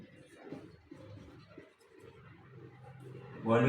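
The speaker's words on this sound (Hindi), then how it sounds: "यहां हम लिख देंगे वॉल्यूम" Marker or chalk writing on a board during a maths lesson, a run of soft scratchy strokes at close range, broken by short pauses, with a louder scrape near the end.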